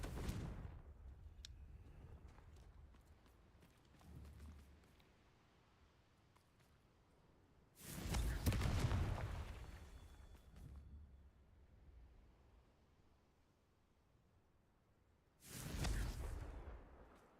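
Confringo spell blasts in a Harry Potter–style video game: two loud, booming explosions well apart, each swelling and fading over about two seconds against a quiet background.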